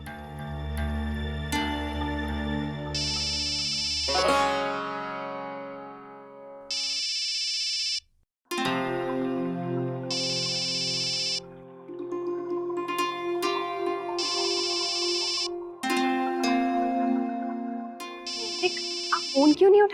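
A mobile phone ringtone plays in a home setting, a bright synthesized melody with repeating tonal bursts sounding close and loud for about twenty seconds, broken by brief pauses, with no talking over it.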